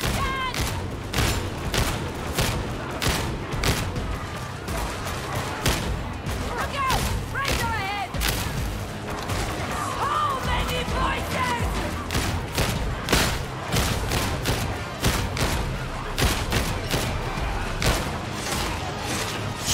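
Relentless gunfire and booming blasts fill the Warhammer 40k Darktide battle, with rapid repeated shots crackling loud and close throughout while voices talk over the fighting.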